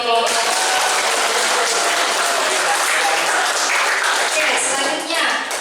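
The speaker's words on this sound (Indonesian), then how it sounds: "tepuk tangan untuk kelompok" Loud, dense applause from a classroom audience clapping for a student group, continuous and close for several seconds.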